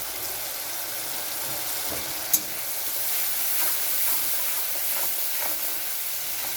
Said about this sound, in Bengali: এখন আমি এটা খুব ভালো করে কষিয়ে নিচ্ছি